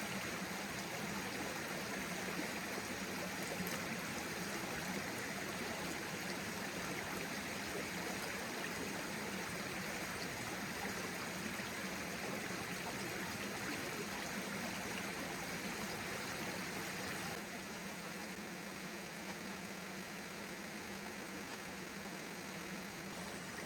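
Creek water flows steadily at a gold prospecting site, a constant faint rushing and trickling wash with no voices.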